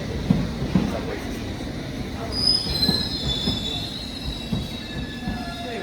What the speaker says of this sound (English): I just took the tube to bank